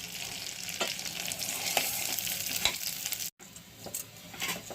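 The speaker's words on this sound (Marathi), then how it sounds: "फ्राय करून घेऊया सतत हलवत राहा" Food fries on low gas while being stirred continuously, giving a soft, steady sizzle with regular scraping strokes of a spatula; a momentary dropout breaks the sound partway through, and no one speaks.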